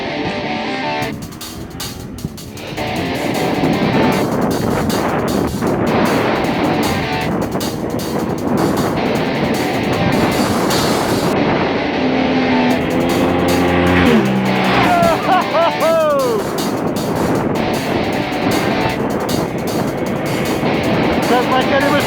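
Motorcycles, including a Yamaha Tenere 700, riding fast past on a wet trail, a loud continuous engine roar and wind rush as they sweep by close, with brief rising whines partway through.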